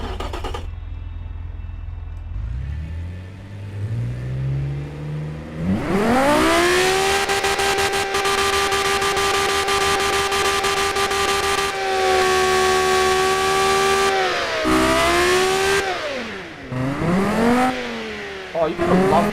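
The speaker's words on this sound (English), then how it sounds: "It sounds like it's literally a Lamborghini engine that you've got here." Engine revs in the Automation car-building game, a Lamborghini-like unit climbing from low rumble to a loud sustained roar with shifting pitch, dipping and rising again through several revs, no talk over it.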